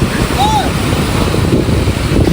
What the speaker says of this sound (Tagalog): Po ay lakas ng hangin.